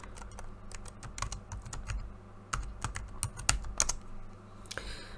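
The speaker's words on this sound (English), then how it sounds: "my typing's slowing down" Rapid typing on a computer keyboard, close and fairly loud, with irregular bursts of sharp key clicks and brief pauses, no voices.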